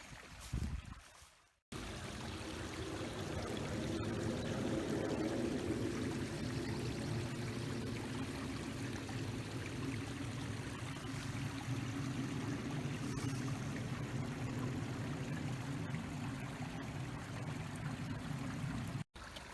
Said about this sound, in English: Hear that waterfall.